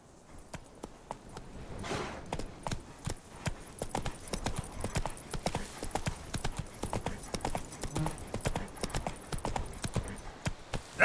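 Hooves of the horse Roach clip-clop in The Witcher 3, a steady walking rhythm of close, distinct hoof strikes running throughout, with a faint spoken line.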